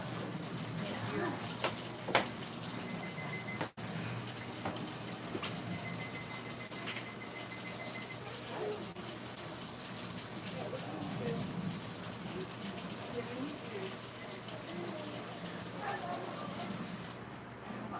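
Water runs into a cranberry juice container in a home kitchen, a steady rushing and splashing pour lasting the whole time, with people talking over it.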